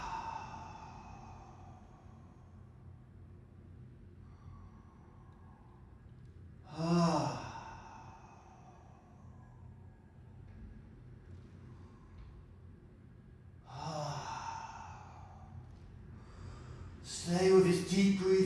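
Deep breaths during a bioenergetics bow-and-arch exercise, two long audible exhales or sighs spaced several seconds apart in a quiet room, followed by a louder, breathy burst at the end.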